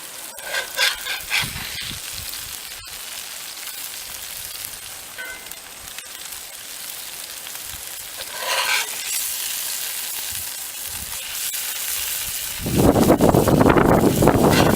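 A pork burger patty in a pan gives a soft, steady sizzle with a few scrapes and knocks, then the frying swells to a loud, bright crackle near the end as the patty is flipped.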